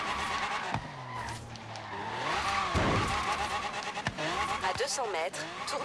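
A Ferrari F40 with traction control off roars and skids through a cross-country race in Forza Horizon 3, the engine rising and falling with tire squeal, while people talk over it.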